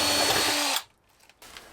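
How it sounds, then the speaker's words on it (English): A power drill whines steadily for under a second, drilling an angled hole while fitting diesel heater ducting in an LT35 camper van, then cuts off, leaving near silence and faint rustling afterward. "I can just drill a hole in an angle"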